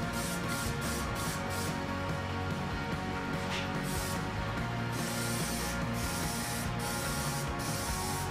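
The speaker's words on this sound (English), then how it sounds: "we're gonna spray it down with some primer first" A spray gun mists primer onto small-block Chevy engine parts in a paint booth. It makes a steady, close hiss broken by short pulsing bursts as the trigger is worked, with no talking.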